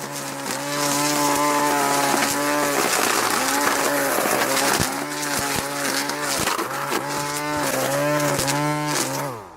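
A WorX 40 V battery-powered weed eater runs close by, its electric motor whining loudly and revving up and down repeatedly without any talk.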